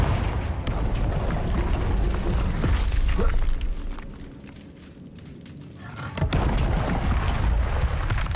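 A Confringo blasting spell detonates in the Hogwarts Legacy game, a loud booming explosion with a long rumbling low roar that fades midway, then a second sharp blast hits and the rumble swells again.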